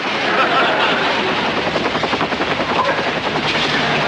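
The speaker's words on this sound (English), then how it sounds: "Daddy's chopper, he's here." A helicopter roars loud and close overhead, its rotor chopping in a steady rapid pulse that fills the entire stretch with dense noise.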